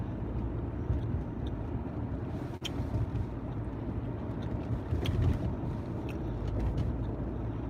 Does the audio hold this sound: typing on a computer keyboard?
no